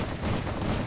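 Free Fire mobile shooter gunfire, a dense one-second burst of rapid shots that is loud and close, with no talk over it.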